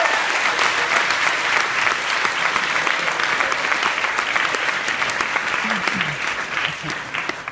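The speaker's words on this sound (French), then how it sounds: "Je vous demande d'applaudir très fort Albert Habib" Audience at a university law student competition applauds a third-year bachelor's student and selection winner, a dense, steady clapping that holds loud and even for several seconds with faint background voices.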